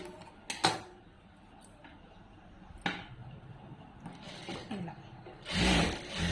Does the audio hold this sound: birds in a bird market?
no